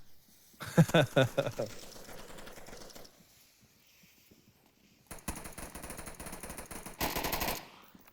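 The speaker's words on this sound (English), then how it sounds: "he hears those shots from Steve" Bursts of automatic gunfire in the VR shooter Onward during a competitive match, a sharp volley early on, then renewed rapid rattling shots later, mid-distance and fairly loud, with talk heard around them.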